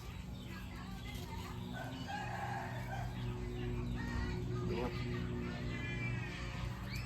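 A fighting cock crows and calls among other farm fowl while someone talks over the birds in a steady stream.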